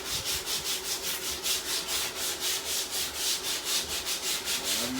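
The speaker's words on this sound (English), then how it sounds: "After you prime, you gotta come back and sand them." Primed MDF cabinet edges are sanded by hand in steady back-and-forth strokes, a close, rhythmic rasping scrape repeating evenly about three times a second with no talk.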